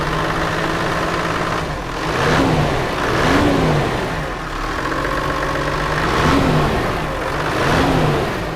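A large Toyota Land Cruiser 80 VXR's 1HD-T diesel engine revs up and settles back several times in a steady rhythm, loud and close, with no talking.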